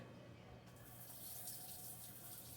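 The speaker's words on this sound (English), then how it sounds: "Now, let me rinse my hands and my little deal." A kitchen tap runs steadily as hands are rinsed while preparing strawberries for shortcake, giving a continuous close hiss of flowing water that swells slightly after a soft start and stays even throughout.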